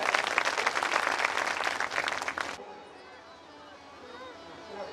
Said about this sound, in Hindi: आप लोग तालियां बजाकर स्वागत करें।